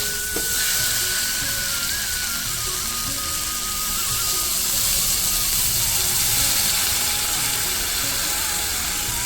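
Water poured into a pan of frying potatoes and spices for an egg curry gives a loud, steady steamy hiss that holds throughout, with a brief sharp sizzle at the start.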